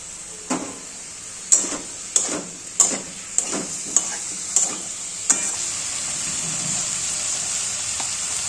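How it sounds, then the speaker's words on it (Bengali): Steady high sizzle of cauliflower frying in a pan, punctuated by about eight sharp clinks and scrapes of stirring in the first half, then continuous hiss. "এবার ফুলকপিটা ঢেলে দিলাম"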